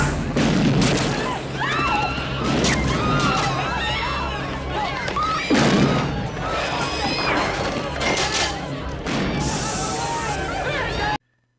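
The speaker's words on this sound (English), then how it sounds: "The movie opens with what seems like a senseless shotgun assault in a supermarket." Shotgun blasts and crashing impacts ring out during the supermarket assault in the 1986 film Cobra, with several loud booms among dense clattering and chaotic background action, and voices shouting in places.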